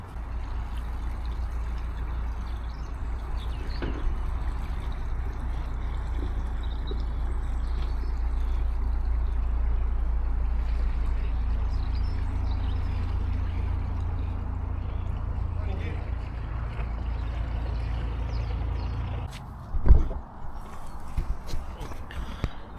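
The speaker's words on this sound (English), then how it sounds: "Boat." A low motor rumble builds and holds as a boat passes nearby on a marina, with brief knocks and a sharp bump near the end.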